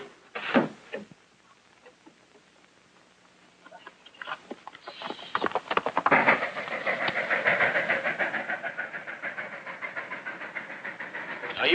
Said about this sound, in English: The payroll's coming through by train.